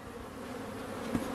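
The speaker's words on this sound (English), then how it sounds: "That bee is not happy." Agitated honey bees buzz loudly around an open hive during a swarm-prevention inspection, with a steady close drone and a brief sharper spike as one bee zips past.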